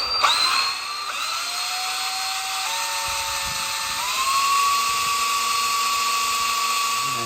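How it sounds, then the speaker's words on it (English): Small drill spinning a tiny bit while working on a John Deere Model A tractor, a high steady whine that shifts pitch as the load changes, close and loud, without talk. "that's a really tiny little screw drill"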